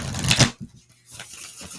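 A tarot card deck being shuffled, a brief papery riffle and flutter of cards up close, followed by a few soft handling sounds.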